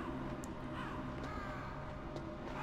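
Crows caw faintly several times in the game Metal Gear Solid, scattered short calls over a dense, constant low background murmur.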